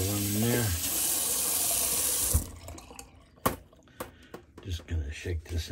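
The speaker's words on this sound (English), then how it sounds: "got the water running there." A tap runs loudly into a sink for about two seconds, then shuts off, followed by a few soft knocks and a voice talking.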